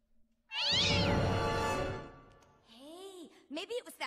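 A cat gives one loud, long, drawn-out meow up close, followed by softer, shorter meow-like calls and a few brief sounds at the end.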